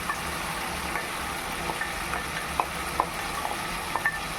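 Batter poured over chilli garlic prawns sizzling in a pan, a steady soft frying hiss with occasional light clicks and taps of a utensil against the pan, close and moderately quiet with no talking.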